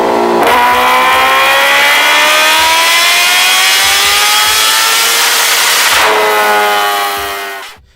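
Kawasaki Ninja H2R supercharged 998cc four-cylinder superbike engine, loud close revving that climbs through rising gears for several seconds, then drops and climbs again before cutting off abruptly.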